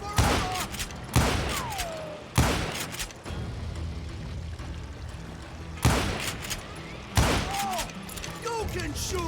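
Gunshots in the Western shooter Call of Juarez: five loud, booming shots spaced a second or more apart over a constant ambient bed, with voices talking between them.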